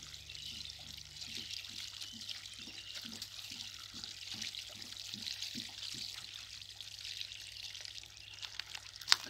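Water pours steadily onto a model landscape of arable land in a hydrology demonstration, a continuous trickling splash heard close and alone, with a faint rhythmic tapping underneath.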